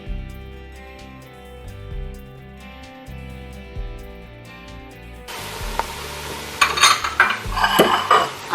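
A metal spoon scrapes and clinks against a cooking pot while egusi soup with fish is stirred, close and fairly loud in irregular strokes. Background music plays throughout.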